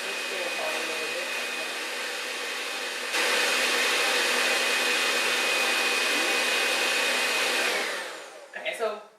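A handheld electric mixer whirs steadily, beating soft butter and sugar into cookie dough, its motor stepping up to a louder speed partway through before cutting off with a few clatters at the end.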